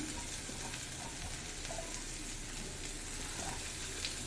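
Ivy gourd sautéing in oil over a medium flame for a fry, a continuous dense sizzle with faint stirring scrapes underneath, steady and fairly quiet throughout with no voices.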